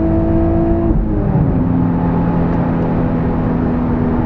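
An Infiniti G35 launching hard at a drag strip with wheel spin, its engine roaring loud and steady as the pitch drops and resettles after a shift, close and without speech.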